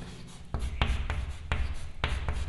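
An equation is written on a board in a math lesson, with quick, close scratching strokes landing in a steady rhythm of about four taps and scrapes.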